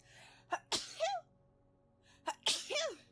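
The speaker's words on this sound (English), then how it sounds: "Can you pretend to sneeze?" Two exaggerated sneezes from a person, each a quick breathy intake followed by a sharp burst, spaced about two seconds apart.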